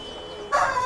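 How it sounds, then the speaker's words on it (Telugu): A rooster about 16 months old, around 4 kg and a long-bodied fighting bird, gives a short loud crow-like call that starts sharply partway through, over a faint outdoor background. "అన్న ఈ పుంజు గురించి చెప్పండి."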